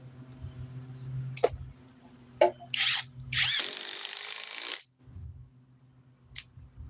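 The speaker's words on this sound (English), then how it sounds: "Let's start with the impact driver." Loud bursts of an impact driver driving a fastener, two short rattling bursts then a longer sustained one, over a low background hum, with a faint click at the end.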